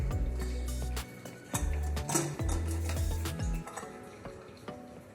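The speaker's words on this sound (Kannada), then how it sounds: "ಇವಾಗ ಲಿಡ್ ಅನ್ನು ಓಪನ್ ಮಾಡೋಣ." A pressure cooker lid is handled and opened after cooling, with close metallic clanks, scrapes and clinks in a short irregular sequence, then quieter rattling.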